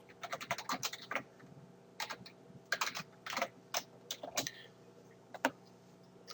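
Rapid keystrokes on a computer keyboard clatter in irregular bursts, some quick runs and some pauses, close by with no talking.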